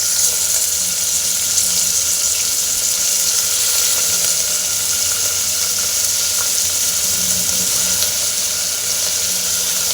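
Cut eggplant and potato fry in hot oil for dal rice khichdi, giving a steady, loud, unbroken sizzle that runs throughout.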